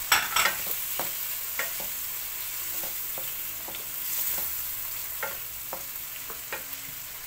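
Shrimp hitting a hot pan for a mixed seafood dish, giving a steady loud sizzle and hiss with scattered clicks of stirring throughout, and no talking.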